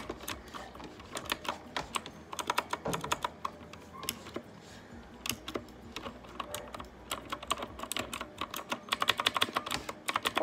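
Rapid typing on a new Red Dragon computer keyboard, with dense clicky keystrokes in irregular bursts, close and fairly quiet, with no voices over it.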